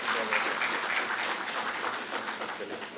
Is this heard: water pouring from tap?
no